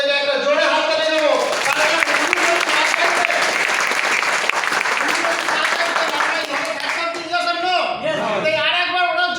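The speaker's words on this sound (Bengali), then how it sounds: "নিজে থেকে প্রত্যেকে একটা জোরে হাততালি দেবো" An audience claps loudly and continuously at an opening ceremony for a business, with dense applause filling the whole stretch and voices faintly mixed in.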